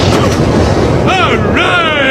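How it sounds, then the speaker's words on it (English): A rocket is fired with a loud, sustained roaring blast that fills the whole clip, while voices rise and shout over it. "they're firing the rocket!"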